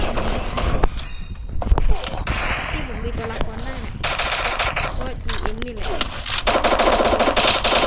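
Automatic gunfire in the Free Fire battle royale game, loud rapid bursts of shots repeating across the whole stretch, with a few pauses and some movement sounds between volleys.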